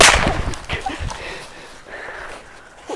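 A firecracker going off among fireworks gives a sharp crack at the start followed by fainter pops and crackles, with brief bits of nearby talk.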